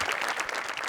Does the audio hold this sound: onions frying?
no